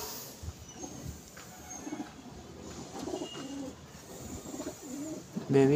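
A female pigeon kept as a pet at home coos in low, repeated rolling phrases throughout, with a louder, closer coo at the end over steady background noise.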